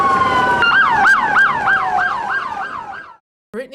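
An ambulance siren wails loud and close in a rapid repeating yelp pattern, about nine quick rising-falling cycles, then cuts off abruptly before a brief burst of another sound.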